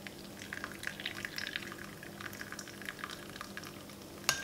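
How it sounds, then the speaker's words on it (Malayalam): Lukewarm water is poured onto yeast in a bowl to make home-made beer. It gives a quiet, close trickle with small bubbly splashes and drips, then a brief clink near the end. "അതിനായിട്ട് നമുക്ക് ഒരല്പം ചെറു ചൂടുവെള്ളം ഒഴിക്കാം."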